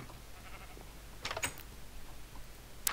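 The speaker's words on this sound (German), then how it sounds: "Schafe!" Minecraft sheep bleat in a short, fairly quiet burst at the middle of the clip, with another brief cry right at the end over low game background noise.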